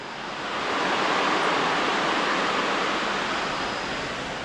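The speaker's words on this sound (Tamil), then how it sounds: "தண்ணி ஓட சத்தக்குது பாருங்கள்" Steady rushing water from a stream at night in Valparai, a broad continuous wash, swelling slightly then holding even.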